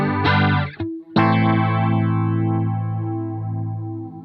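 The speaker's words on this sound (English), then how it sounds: "And I have a lot of warble." An electric guitar through a Stylus pedal with the saturate knob cranked rings out in strummed chords, the sustained notes wobbling in a pronounced warbling, chorus-like modulation as they decay.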